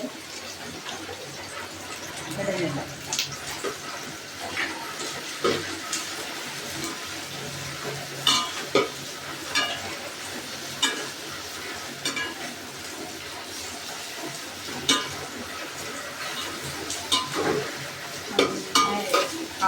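Chopped onions frying in a pan for Palakkad-style chicken curry, a steady soft sizzle broken by frequent scraping stirs of the spoon against the pan, close by, with no talking.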